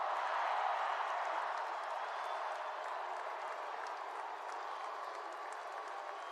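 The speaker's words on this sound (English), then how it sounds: "let's give them a round of applause" Large crowd applauds and cheers for football players on stage at a Georgia national championship celebration, a steady dense wash of clapping that holds throughout and eases slightly toward the end.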